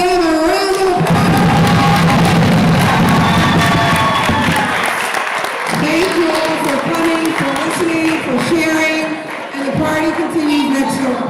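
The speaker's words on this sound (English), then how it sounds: "A round of applause." An audience at an annual Torah fair breaks into sustained applause and cheering. Loud clapping runs throughout, mixed with voices and some tonal sound from the crowd.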